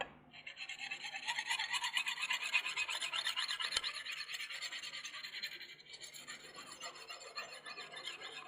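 A knife blade is drawn repeatedly across a fast-cutting abrasive sharpener, producing close, rhythmic raspy scraping strokes that fade toward the end.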